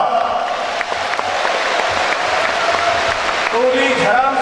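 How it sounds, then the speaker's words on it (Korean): Crowd applause fills a gymnasium hall at a Korean provincial governor party primary, a steady, loud wash of clapping that continues throughout, with an announcer's voice faintly over it. "또 우리 끝까지 자리를 함께 해주신 이춘석 정부도당 의원님께도 커다란 박수 부탁드립니다."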